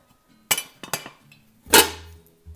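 A plate set down over a cake pan, giving a few sharp ceramic clinks and knocks, then a longer scraping clatter as dish and pan meet, close and fairly loud.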